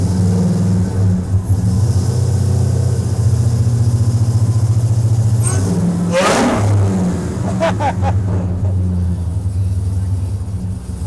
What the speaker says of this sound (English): Oh, that supercharger sounds awesome. I didn't think they're that loud.